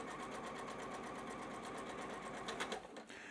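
A sewing machine stitches a quilt seam on a nine-patch cotton quilt block, giving a steady, close mechanical whir that runs evenly for about two and a half seconds before slowing and stopping.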